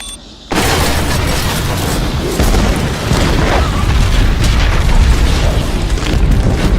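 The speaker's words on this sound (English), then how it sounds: "blow up the gunship" A Star Wars: The Clone Wars gunship explodes in a sudden loud blast that opens into a long, rumbling roar of debris and fire that continues without fading.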